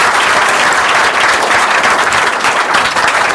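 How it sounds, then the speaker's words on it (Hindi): Loud, dense applause from an audience welcoming a guest to an interview, steady clapping from many hands filling the room without pause. "जरा जोरदार तालियों से स्वागत कीजिए इनका।"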